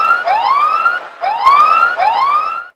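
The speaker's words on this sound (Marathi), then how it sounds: "सायरन वाजणार ज्यावेळी नो बॉल येणार त्यावेळी आमचे डीजे तेही रेडी आहेत" A loud electronic siren is played over the sound system at a local cricket match to signal a no ball. Three rising wails follow one another in quick succession, close and alone.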